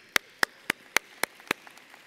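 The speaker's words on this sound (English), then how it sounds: "Round of applause for those guys." A few distinct hand claps at a UIC urban planning commencement ring out one at a time in an even rhythm, six sharp claps close by with quiet between them, not a full crowd ovation.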